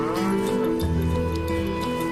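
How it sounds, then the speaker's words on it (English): Ankole cattle low with deep, drawn-out moos layered over one another in a dense, continuous herd sound, steady and fairly loud throughout. "They probably would have been tending herds of a breed like these Ankoli cattle."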